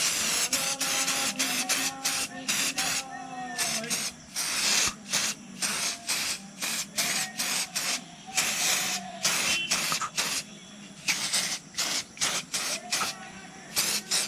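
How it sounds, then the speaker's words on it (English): Engine shine spray hisses in repeated short bursts onto a motorcycle engine, close and crisp, with brief pauses between each spray and a faint whistling tone underneath. "So I'll be using the spray here too."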